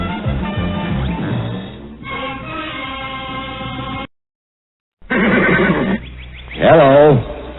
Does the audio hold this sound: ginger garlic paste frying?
no